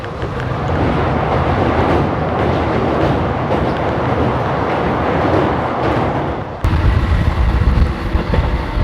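Moving train 14526 Shri Ganganagar–Ambala gives a steady, loud rolling rumble from inside, with a sudden jolt partway through and a heavier clatter after it.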